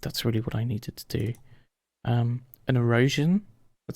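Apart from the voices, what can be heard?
None of the usual background noises is heard.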